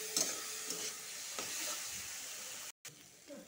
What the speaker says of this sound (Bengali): এটার সাথে ভালো করে ভাজবো। ইচা মাছটার সাথে